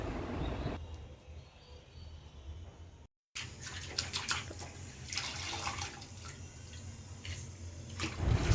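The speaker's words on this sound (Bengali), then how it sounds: "এবার খুব ভালোভাবে ধুয়ে নিয়েছি।" Centella asiatica leaves are washed in water, with splashing and running-water sounds at close range, quieter at first and then livelier with repeated swishes and drips.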